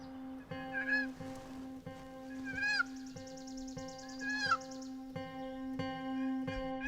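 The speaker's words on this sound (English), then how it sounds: "Soon, a turkey responds and starts approaching the group." A wild turkey answers hunters' turkey calls outdoors, giving several clear rising gobble-like and yelping bursts that stand out over a steady background hum and ambient noise.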